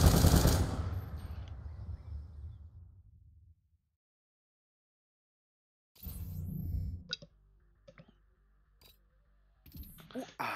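Gunfire in Call of Duty: Black Ops II comes as a loud burst that fades out, then after a silent gap returns as scattered shots and clicks, with people talking.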